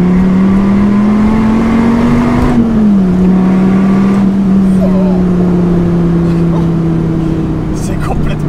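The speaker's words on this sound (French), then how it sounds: "Là regardez, 2ème. Je suis à 3000 tours, j'accélère progressivement." An SRT Viper GTS V10 accelerates progressively in second gear, a steady droning engine note climbing slowly in pitch, heard from inside the cabin under continuous talking.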